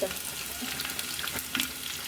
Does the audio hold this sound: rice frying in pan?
yes